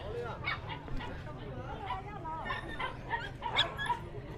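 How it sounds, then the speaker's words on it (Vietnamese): Ordinary dogs roam a highland market at Lùng Phình. Short yips, whimpers and barks rise out of dense crowd chatter. "khu vực này mình thấy là người ta có mấy con chó này, mấy con chó ở trên vùng cao"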